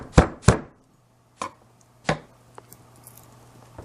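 Fresh garlic cloves being crushed and diced with a kitchen knife on a cutting board, starting with two sharp, loud chops and then a few spaced, quieter knocks, close up and without talking.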